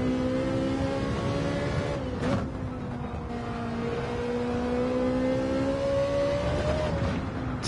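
Ferrari engine in Gran Turismo 7 drones steadily with rising and falling revs, a loud continuous tone that dips briefly then climbs again as gears shift, with no talking.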